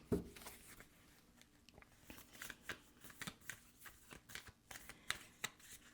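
Tarot cards being shuffled with repeated crisp riffling bursts, close and fairly quiet, in an irregular rhythm with no one speaking.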